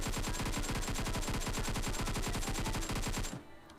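Rapid automatic gunfire in a video game, aimed at an opposing team's buggy, rattles out as one loud, unbroken burst of evenly spaced shots for about three seconds and then cuts off abruptly.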